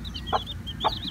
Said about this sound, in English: Mama Hen is doing really good.